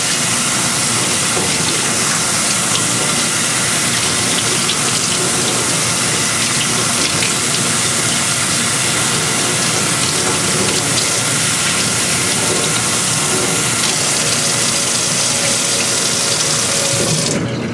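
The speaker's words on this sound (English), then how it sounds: "we're going to run it under some warm water" Warm water runs steadily from a tap into a sink, a continuous loud hiss and splash with no break, used for rinsing a feather duster.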